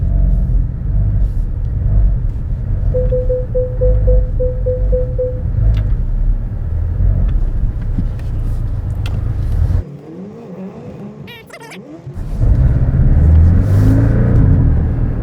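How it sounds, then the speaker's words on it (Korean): A loud Porsche 718 Cayman GTS engine rumbles and revs steadily, briefly dropping quieter before surging back louder with a deep exhaust roar. "배기 사운드가 장난 아닙니다"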